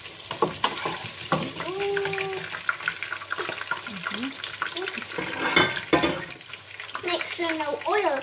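Thai fish cakes made with clown featherback fish and curry paste deep-fry in hot oil, a continuous bubbling sizzle with clinks of utensils while people talk over it nearby.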